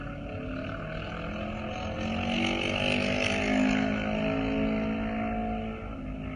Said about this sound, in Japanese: 8番二村飛龍選手もすぐ後ろに待機、試運転を行います。